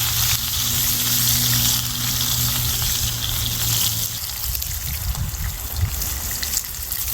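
A ribeye steak sears in a hot cast iron pan with melted fat, giving a steady, close sizzle and spatter that runs the whole time, with a low hum underneath that fades partway through.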